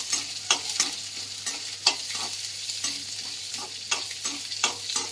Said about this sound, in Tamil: இப்போ சின்ன வெங்காயமும் பூண்டும் போட்டாச்சு.